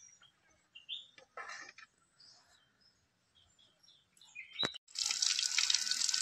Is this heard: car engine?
no